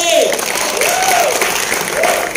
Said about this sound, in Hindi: So put your hands together for Divya and Lucky.